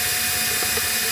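Power drill running in reverse as it is pushed into wood for a handmade beehive box, a loud steady motor whine with a grinding, ratcheting texture over a short burst.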